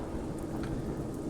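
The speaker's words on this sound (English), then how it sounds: "It's raining. It's been raining for a while." Steady rainfall in the video game A Juggler's Tale patters softly and continuously, a faint, even wash of drops with a few slightly brighter splashes, no voices over it.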